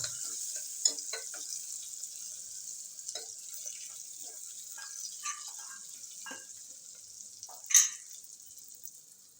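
Whole onions stuffed with spice mix cook Kathiyawadi style in a pan on low heat, giving off a faint, steady sizzling hiss broken by a few soft stirring clinks and one sharper knock.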